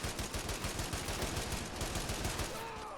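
Rapid machine gun fire in the WWII strategy game Men of War: Assault Squad during a Soviet beach assault in Manchuria, a steady stream of fast, evenly spaced bursts, loud and continuous.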